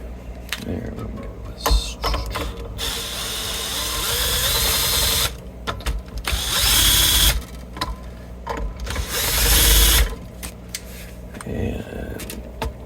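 A Bosch power drill spins off the strings of a fan-fret Spector bass in bursts of whirring, with pauses, mechanical clicks and handling noise between runs, close and fairly loud.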